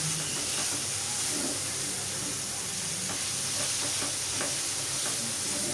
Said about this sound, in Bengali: এভাবেই নাড়াচাড়া করে আমি মশলা কষাবো।